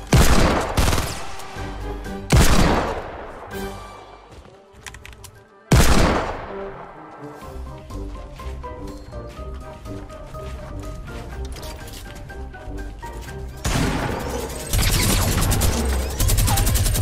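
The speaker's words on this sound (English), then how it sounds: "They were shotgunning one another" Loud, close gunfire bursts crack out in a Fortnite Battle Royale match, with heavy booming shots, separated by pauses, over a low game-music bed and faint talk.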